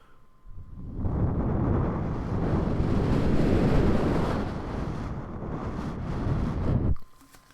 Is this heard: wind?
yes